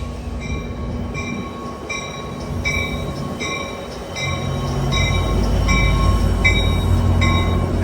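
An Amtrak San Joaquins passenger train, a doubleheader pulled by two SC44 locomotives, rolls past with a steady heavy rumble and rhythmic clicking of wheels over rail joints, growing louder and closer as the cars go by.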